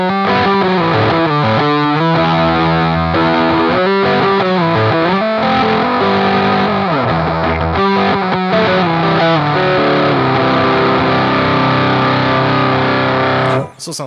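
Electric guitar through a fuzz pedal, thick saturated distorted chords and riffs played continuously, loud and dense, ending abruptly.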